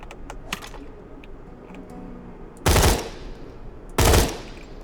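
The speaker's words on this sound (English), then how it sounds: "Nine-round burst in 3x3 configuration." Two loud, tight bursts of SMG fire from a slag TDR submachine gun in Borderlands 2, each a rapid nine-round burst fired in a 3x3 pattern, separated by a short pause over a low game background.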